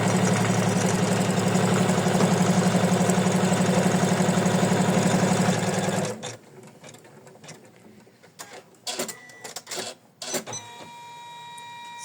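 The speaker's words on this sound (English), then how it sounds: "So we attached fabric and then we stitch again the placement line." A sewing machine stitches a placement line on fabric for an ornament, running as a loud, steady mechanical whir for about six seconds before stopping, followed by a few soft clicks and handling noises.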